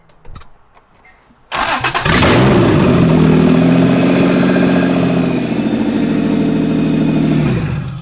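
An Acura NSX rebuilt from a junkyard, just given a 90,000-mile service, cranks briefly and fires up loud and close, settling into a steady, even idle that runs several seconds before cutting off.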